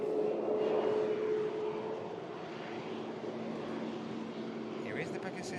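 A Pegasus airliner on final approach at Manchester Airport during Storm Lilian, heard as a steady, fairly distant jet roar with a faint tonal whine, fading slightly partway through over wind noise.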